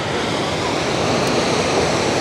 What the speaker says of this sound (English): Here's the water, goes up that canyon